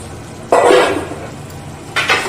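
Poppy seed paste hitting hot oil with onion paste in a pan, a sudden loud hiss and splatter that fades, then a second sharp sizzle burst with clinks of a utensil, close and without talk.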